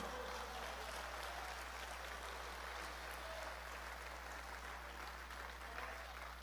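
Church congregation applauding during a sermon, a quiet, steady wash of clapping with a low hum underneath and no clear speech.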